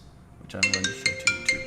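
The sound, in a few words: phone ringtone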